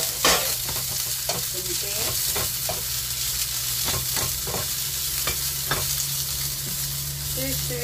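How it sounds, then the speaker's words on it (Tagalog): Mie choy preserved vegetable is stir-fried with garlic and ginger, giving a continuous sizzle over a low hum, broken by repeated scraping and clanking strokes of a spatula against the pan, with a brief spoken word. "ilagay na natin yung mochoy, ito guys, mochoy. Stir fry natin."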